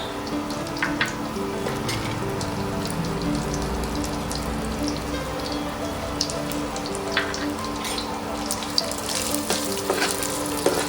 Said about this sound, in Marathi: व आता ते तुपावर आपण छान खमंग भाजून घेऊया.